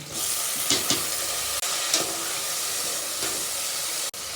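Onion, garlic and tomato sizzle in a hot pan for a moong dal pulao, a loud, continuous frying hiss with a few stirring scrapes and short breaks.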